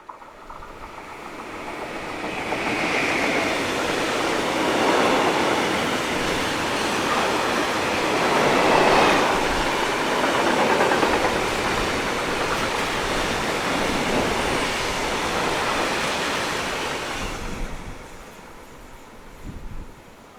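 Class 183 locomotive 183003 passes with a train from Ingolstadt to Basel, a broad rushing roar that builds, holds for about fifteen seconds and fades, with no voices.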